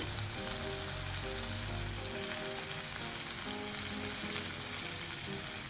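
Chicken pieces frying in a pan, a steady dense sizzle with light crackling and faint bubbling, continuous and close with no talking.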